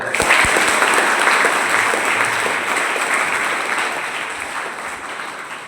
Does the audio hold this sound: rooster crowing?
no